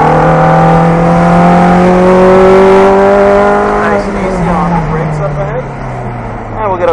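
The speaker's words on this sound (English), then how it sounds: "We'll start rolling on throttle as we come down the straightaway onto the gas." A car accelerating on throttle down a straightaway on a cone course, its engine note loud and close, rising and then dropping through a gear change, with no talk.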